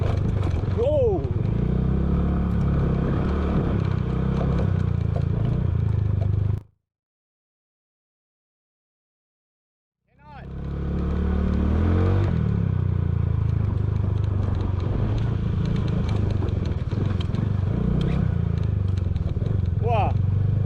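A motorcycle ridden over a bumpy road: a loud, close engine roar with clattering and scraping rattles from the bumps. It cuts to silence for about three and a half seconds midway, then returns just as loud.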